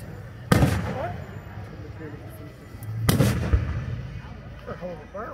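Fireworks at a family firework show explode in two loud, sharp booms about two and a half seconds apart, each trailing into a rumbling decay, with people talking faintly in between.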